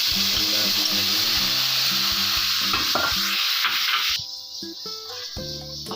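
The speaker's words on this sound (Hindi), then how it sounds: "पानी में इसके अंदर 3 गिलास डाल रहा हूँ" Water poured into semolina roasting in a pan for suji halwa sets off a loud, steady sizzling hiss that suddenly drops away after about four seconds, leaving a quieter simmer under faint tonal background sound.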